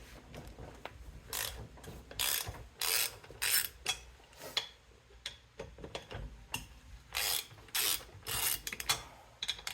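A ratchet spins off old 14 mm lug nuts on a 2014 Polaris Sportsman 570, bursts of rapid close clicking separated by short pauses, fairly quiet.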